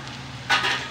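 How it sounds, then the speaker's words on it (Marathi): Drumstick-leaf (shevga) vegetable with grated fresh coconut is stirred in a pan, a soft frying hiss underneath, then a short scraping stir burst midway. "आणि भाजी पुन्हा एकदा आपण मिक्स करूया."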